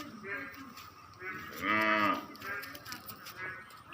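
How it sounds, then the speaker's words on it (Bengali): A cow moos several times nearby amid floodwater, one long low call swelling louder in the middle, with faint background noise. "চারিদিকে বন্যার পানি হয়ে গবাদি পশুগুলো অনেক কষ্ট পাচ্ছে"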